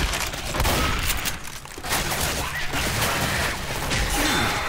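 Shotgun fire in the game Left 4 Dead 2: loud, dense bursts of blasts and chaotic combat noise fill the clip, with repeated booming shots and crashing impacts.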